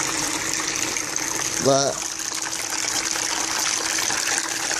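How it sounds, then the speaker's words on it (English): Water runs steadily over a gold prospecting mat to wash away black sand, a continuous rushing hiss close by, with a brief spoken word over it. "I'm just going to let that run for a few minutes. Let some of that black sand and stuff wash away."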